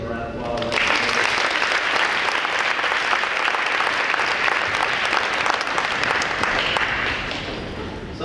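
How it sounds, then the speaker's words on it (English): An audience at a 2014 Hall of Fame induction ceremony breaks into loud, sustained applause that swells quickly after a brief start and holds as a dense roar of clapping before easing slightly at the end. "let's give him a round of applause"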